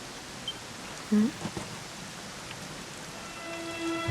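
Steady rain in the video game Dragon Quest XI S hisses continuously as a broad wash of noise, with a few faint tones and a brief voice-like sound over it.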